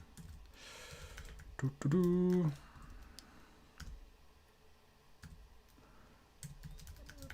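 Scattered clicks of typing on a computer keyboard, irregular and fairly quiet, broken by a brief loud tonal beep in the early part.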